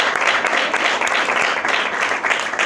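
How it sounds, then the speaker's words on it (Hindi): An audience at a church sermon claps steadily throughout, a dense, even wash of applause from many hands, fairly loud and close, with no clear speech over it. "तालियां तो बजा रही है"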